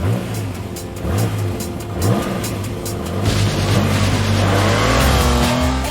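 A TVR sports car accelerates hard on a race track with a loud, close engine roar that climbs through the revs, drops briefly on a gear change and climbs again, steady and dominant with no voices.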